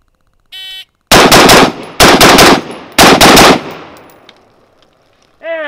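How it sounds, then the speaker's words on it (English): An AR15 carbine fires nine rifle shots in a nine-shot drill, delivered as three fast, loud strings of about three shots each, with echoes trailing after the last string. "And that's 9 shots clean."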